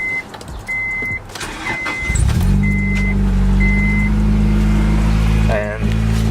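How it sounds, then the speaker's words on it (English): A car engine, just refitted with a new GSR cap gasket, cranks briefly and then starts, settling into a loud, steady close-up idle with a deep rumble, while a few faint beeps and clicks sound early on. "let's turn on the car and see if the engine doesn't explode"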